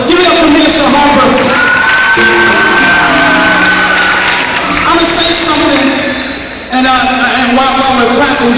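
A church crowd claps, cheers and whoops loudly for the minister, with shouts and a voice rising over the noisy applause, which dips briefly before swelling again.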